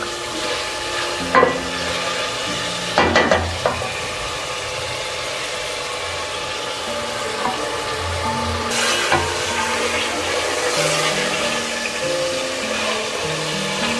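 Mutton trotters fry in a pot on the stove, a continuous soft sizzle broken by a few louder scraping stirs, close by with no talking.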